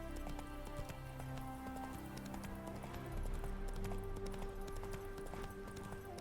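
Steady clip-clop of horse hooves at a trot in the video game The Witcher, continuous and fairly close, over a dense bed of ambient background sound.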